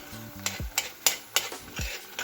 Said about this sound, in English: So here the tomato is actually coming to a nice boil